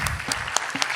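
Brief audience applause after a speaker at a popular-university talk, a short burst of close, distinct hand claps lasting about a second.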